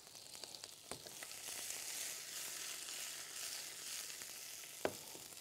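Fat heating in a frying pan for an Egyptian home-style dish with peppers, giving a steady soft sizzle with a couple of sharp clicks and pops, fairly quiet and with no talking.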